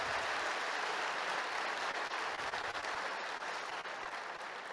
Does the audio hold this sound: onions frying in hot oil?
no